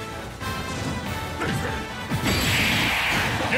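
Smash attack impacts in a Super Smash Bros amiibo match with Dark Samus, loud crashing hits and whooshes layered over continuous game sound with a bright sustained burst near the end.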